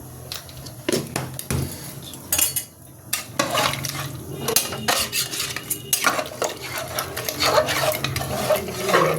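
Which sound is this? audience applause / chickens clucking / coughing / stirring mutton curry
stirring mutton curry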